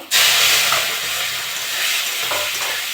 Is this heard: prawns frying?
yes